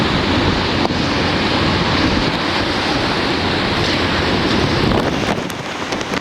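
Ocean surf and gusting wind roar during Hurricane Charley at Punta Gorda, Florida, a loud, continuous broadband wash that barely eases toward the end, with no voices.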